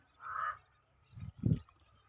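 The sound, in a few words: birds flying over a pond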